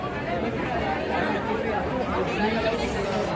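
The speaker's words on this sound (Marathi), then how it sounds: "गर्दी बघा" A dense crowd chatters steadily in a busy Indian street setting, a constant babble of many voices without pause.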